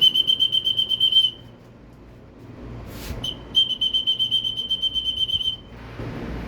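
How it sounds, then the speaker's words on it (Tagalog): Pigeon-calling whistle at a racing pigeon training release in Saudi Arabia: two bursts of rapid, repeated sharp whistle trills, the first about a second long and the second longer, separated by a quiet gap with faint outdoor background. "Sipol tayo."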